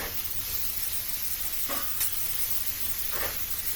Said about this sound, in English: You guys see how nice these saute in a stainless steel skillet?